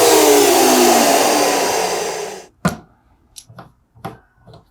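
A loud whooshing turbine whine from a Fuji HVLP turbine paint sprayer runs steadily at about 80 decibels, then winds down and cuts off, followed by a few short clicks and taps.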